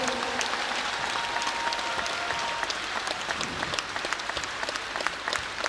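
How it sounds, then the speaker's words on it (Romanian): Audience applause at a winter folk concert, steady dense clapping from a large crowd filling the hall, sustained and even throughout. "Vă rog aplauze pentru Media Show Group"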